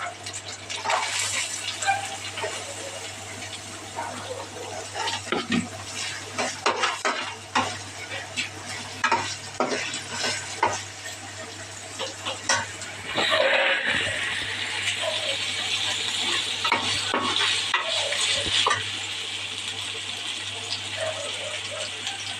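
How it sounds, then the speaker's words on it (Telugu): Onions and green chilies frying in a pan, with a soft sizzle and repeated scraping stirs of a utensil against the metal, then a louder, steadier hiss of frying in the second half, close by. "ఇప్పుడైతే మనం ఉల్లిపాయలు పచ్చిమిర్చి వేసుకున్నాం"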